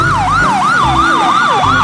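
A toy police siren wails up and down in a steady, repeating cycle, loud and close, with an electronic tone and no voices.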